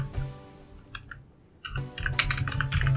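Typing on a computer keyboard while entering text into a spreadsheet, with a few sparse key clicks at first and then a denser burst of clattering keystrokes, close and fairly clear.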